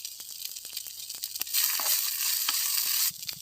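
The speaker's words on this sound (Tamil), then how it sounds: "கழுவி சுத்தம் பண்ணி வச்சுருக்கேன் அவலை சேர்த்து கலந்துக்கலாங்க" Flattened rice (aval) being stirred with salt and turmeric in a pan for village-style upma, a loose scraping and rustling that swells into a steady sizzle mid-way before dropping back to light stirring, no talking.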